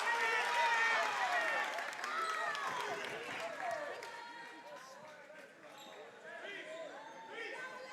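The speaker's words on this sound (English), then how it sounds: "Fires up the crowd and the bench." Crowd and bench at a men's high school basketball game between Hidalgo and Port Isabel cheer and clap after a made basket, loud at first and then fading, with sneaker squeaks, bouncing and a commentator talking over it.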